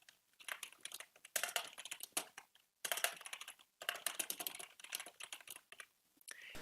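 Rapid keystrokes on a computer keyboard while an email message is written, coming in busy bursts of clicks with short pauses between them, close and fairly quiet, with no talking.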